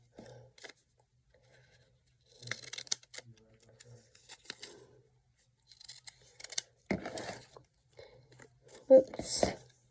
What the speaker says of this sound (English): I am using a decorative scissors to give it a little bit of a different edge